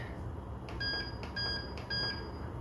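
All-Clad waffle maker switching on: three short, clear electronic beeps in a steady even rhythm, fairly quiet over faint room hiss.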